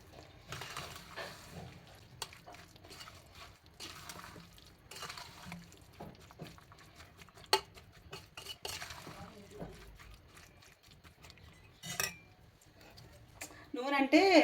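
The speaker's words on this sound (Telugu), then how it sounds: "నూనె వేసిన తర్వాత బాగా కలపెట్టుకోవాలి" A spoon stirs mango pickle after groundnut oil is poured in, making soft wet scraping and occasional clinks against the container, faint and close, while a person talks over it.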